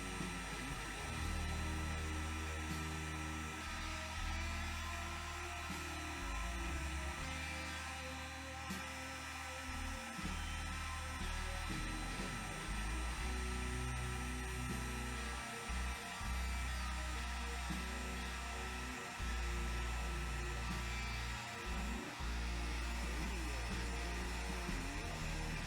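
A CNC milling machine runs a 0.5 mm cutter at 20,000 rpm, giving a steady high-pitched spindle whine over a low hum, with a few brief dips where the cut changes.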